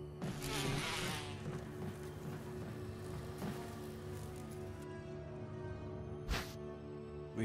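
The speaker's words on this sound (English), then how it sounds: "Yo, look at those bees." Bees buzz in the Resident Evil Remake video game, a continuous droning hum with a few louder swells and a sharp burst near the end, heard alone without talk.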